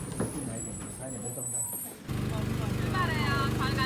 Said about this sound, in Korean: 엔진 소리가 되게 시끄러워요